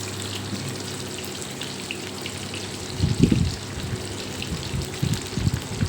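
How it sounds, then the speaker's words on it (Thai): Pork frying in oil until the skin turns crispy makes a close crackling sizzle, with bursts of louder bubbling and popping partway through. "ทอดไปเรื่อยๆเลยจ้า"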